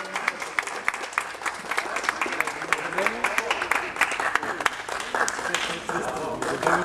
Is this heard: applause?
yes